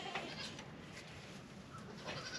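A Kiko goat doe bleats a few times at close range on a farm in cold, wet weather over steady background noise, with no voices.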